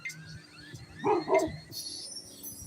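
A dog gives two quick, close barks in the middle of a quiet moment, followed by faint background sounds.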